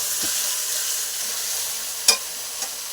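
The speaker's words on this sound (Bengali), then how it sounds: "এরকম করে আলুটা ভেজে নিয়েছি খুব সুন্দর করে" Potatoes frying in a pan give a steady close hiss of hot oil, with a sharp utensil tap and a smaller clink near the end, no talk.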